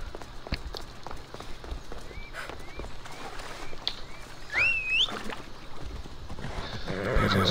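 A white horse in the video game Assassin's Creed Odyssey whinnies loudly in the middle of the clip, with a fainter earlier neigh and the soft clip-clop of hooves running beneath it, no voices present.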